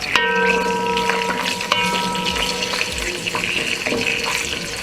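Chopped onions hit hot cooking oil for a Ghanaian jollof stew, giving a steady close sizzle and crackle with some watery hiss and faint clinks, continuing throughout.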